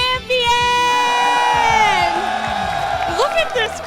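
A large crowd at a Yu-Gi-Oh! trading card championship event in Houston, Texas cheers and whoops loudly for the winner. Sustained, close shouting and cheering fill the whole stretch.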